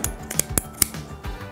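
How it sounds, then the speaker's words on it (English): Scissors snip through a yarn pom pom in several quick, close crisp cuts, each a sharp metallic click in an uneven rhythm over a quiet room. "You're gonna take your scissors and you're going to cut through that divot while keeping it closed."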